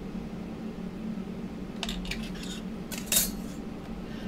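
A blade cutting a slice from a polymer clay snowflake cane, a few short scraping and tapping sounds close up over a steady low hum, with no talking.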